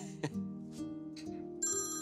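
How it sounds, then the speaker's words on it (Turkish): A phone ringtone plays during a Turkish TV drama scene, a short electronic melody chiming out clearly over soft music, with a bright sustained tone rising toward the end. "Telefon."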